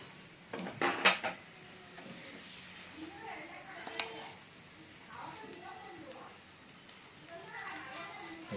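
A metal grill plate is set down on an indoor gas grill with a few sharp clanks near the start, followed by lighter metallic taps while a person talks.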